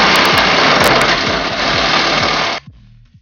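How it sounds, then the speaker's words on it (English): An angle grinder cuts loudly through a bolt on a 2006 Jeep Grand Cherokee WK, a harsh continuous whine close up that stops abruptly near the end and spins down. "We are going to cut off this bolt"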